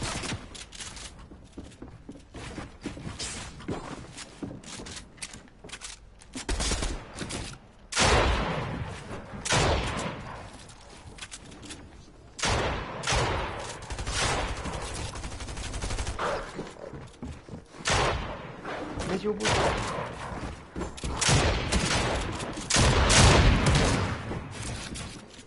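Bursts of rapid gunfire and heavy volleys erupt repeatedly, loud and close, with sustained rattling fire and booms swelling toward the end.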